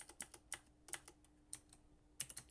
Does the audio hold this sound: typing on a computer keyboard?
yes